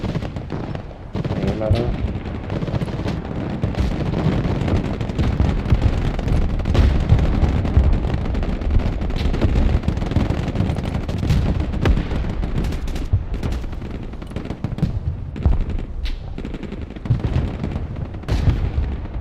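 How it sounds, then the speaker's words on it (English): Gunfire and artillery-like blasts from the real-time war strategy game Broken Arrow, with sniper shots among dense battle noise; a steady roar of explosions and shots runs throughout, with a voice briefly speaking over it. "And let the snipers fire."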